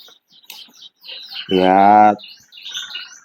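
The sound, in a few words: canary (kenari) chirping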